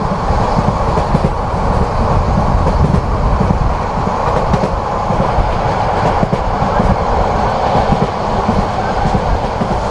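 Passing through a curve near Shashidal station, the Sonar Bangla Express rolls on with a dense, steady roar of wheels on track and intermittent clickety-clack, close and loud the whole time.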